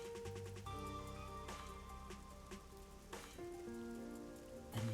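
Steady rain falls in the video game Rain Code, a continuous patter layered under a tonal musical score throughout.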